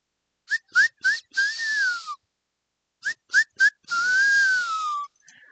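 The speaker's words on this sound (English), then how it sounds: "It's sometimes she really likes whistling a lot." A pet whistles in two phrases, each a few quick rising chirps leading into a long, steady falling whistle. The whistling is clear and close in a quiet room, with a faint short note at the end.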